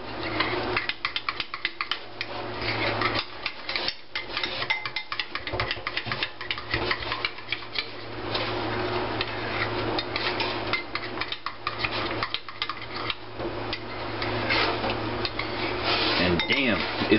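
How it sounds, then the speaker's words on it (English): A utensil scrapes and clinks against a bowl while a dipping sauce for Mexican street corn is stirred, repeated tapping and scraping over steady background hum, with a person speaking at times. "Give this a nice stir."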